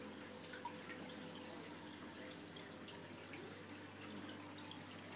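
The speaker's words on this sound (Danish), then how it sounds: "Så fiser vandet jo igennem systemet" Water rushes steadily through an aquarium filter system, a constant soft hiss and trickle with faint drips, uniform and unbroken throughout with no talking.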